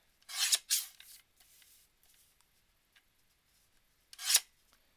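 Scissors cut scrapbook paper in three crisp snips, two close together at the start and one a few seconds later, with faint rustling between them and quiet otherwise.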